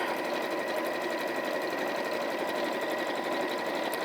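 A sewing machine runs steadily, back stitching at the ends of fabric seams on a project for a cushion cover, a continuous dense mechanical whir held at an even level for the whole stretch with no talk.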